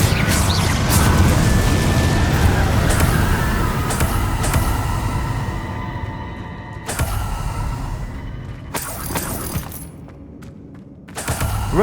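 Confringo fire spell explosions in the Hogwarts Legacy video game: loud booming blasts with crashing, shattering debris. Several sharp bursts are layered over a dense, rumbling game soundscape.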